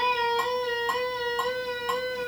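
Electric guitar holds a sustained bright note with rhythmic vibrato pulses, four evenly spaced swells in eighth notes, clear and alone.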